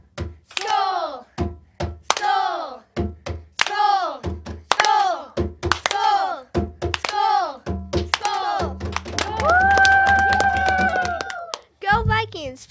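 Students perform a school chant with rhythmic group shouting and claps or thumps in repeating bursts, ending in a sustained held call, loud and close.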